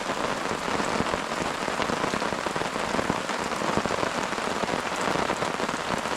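Heavy rain pours steadily on a campsite, a dense continuous hiss of drops pattering on surfaces close by, with no voices.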